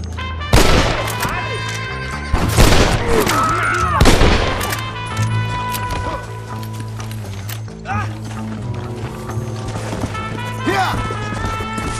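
Gunshots and mechanical clicks from Red Dead Redemption, a Western shooter, come as a few sharp cracks over a steady low game soundscape, with a voice talking throughout.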